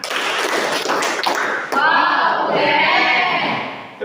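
Students in a classroom clap hands in a quick rhythmic burst, then their voices rise together in a loud group chant close by.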